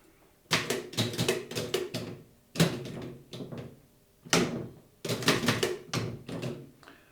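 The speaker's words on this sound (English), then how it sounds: "Let me just get rid of the typewriter" A mechanical typewriter clacks in bursts of rapid keystrokes separated by short pauses, close and fairly loud, with no voices over it.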